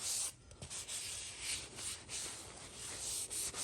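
Cloth rubbing a finish coat onto the wooden handle of a flamed blacksmith-made axe, a steady close scrubbing and swishing with brief pauses, no talking.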